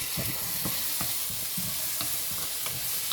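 Chopped tomato fries with beef and onion in a pan for a coconut dry fry, giving a constant sizzle under steady, rhythmic scraping strokes of a spoon, close up with no voices.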